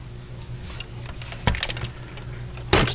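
Cutters snipping plastic grommets off a 1961 Jaguar XK-E scale model kit, two sharp close clicks over a low background hum.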